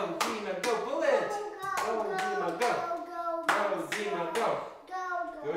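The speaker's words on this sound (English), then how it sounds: "Clap for him." Children clap for a boy named Dima during an online exercise session. The claps are sharp and uneven, coming in bursts as kids chant and cheer.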